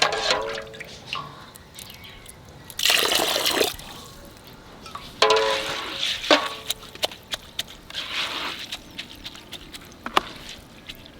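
Water splashes onto washed rice set to soak for making puffed rice, in two short pouring bursts followed by light drips and patter, close by with no talk.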